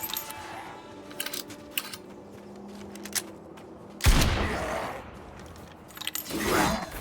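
A burst of gunfire rings out in the survival video game Nightingale, with quiet clicks and handling noise before it and a louder swell of shots near the end.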